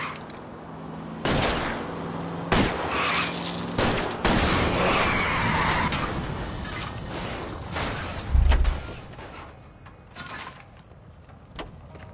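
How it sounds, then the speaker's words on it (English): Scattered gunshots ring out in the L.A. Noire video game, aimed at a car's tires during a chase. Several sharp, loud cracks sound at irregular intervals over rumbling engine and road noise. "I'll try to shoot out his tires"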